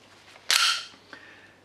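A Tokyo Marui Desert Eagle airsoft pistol fires one sharp, loud BB shot close by, followed a moment later by a smaller mechanical click in an otherwise quiet room.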